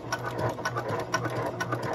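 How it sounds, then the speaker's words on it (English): A shoemaking sewing machine stitches vegetable-tanned leather for clogs in a quick, even mechanical rattle of repeated needle strokes, close and moderately loud, with no talking. "I have never tried to sew veg tan on this, so let's do it. Okay, it seems to be sewing pretty smoothly."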